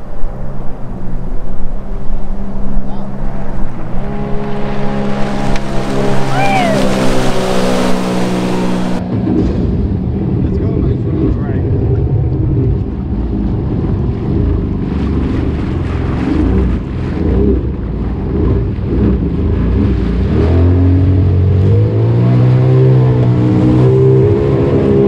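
A 2021 Sea-Doo Spark Evo jet ski runs loud and close on the water, its engine droning steadily with rising and falling revs while wind buffets the microphone throughout.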